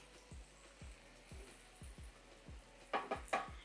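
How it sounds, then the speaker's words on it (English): Ground beef frying in a pan, stirred in a steady rhythm of soft scraping strokes about every half second over a low sizzle, close, with a few sharper scrapes near the end. "I am just gonna mix this around to make sure it doesn't stick to the pan so I can cook all of the meat."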